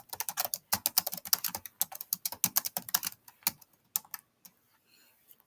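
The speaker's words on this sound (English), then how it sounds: "So you'll just go ahead and type yours in." Quick bursts of keystrokes on a computer keyboard as a chart title is typed in, a close, brisk clatter of keys that slows into a few scattered taps and then stops.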